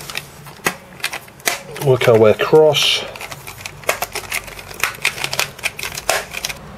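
Amstrad CPC 6128 keyboard parts being clipped back together, a burst of sharp plastic clicks and snaps up close, with a person talking over and around them.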